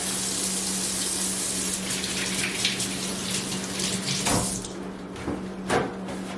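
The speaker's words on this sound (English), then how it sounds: "Always wash your hands." Tap water runs steadily into a sink while hands are washed before cooking, a continuous close hiss with a few splashy surges near the end.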